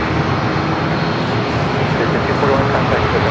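Airliner on short final into San Diego airport, a steady loud engine roar and rushing wind noise filling the scene without letup, close to the listener.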